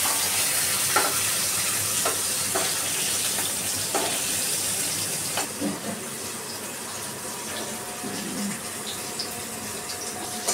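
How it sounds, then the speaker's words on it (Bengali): Hilsa fish frying in hot oil in a home kitchen, a steady broadband sizzle with occasional clatter of turning and stirring, close and continuous with no talk. "মা ভাজছে ইলিশ মাছ।"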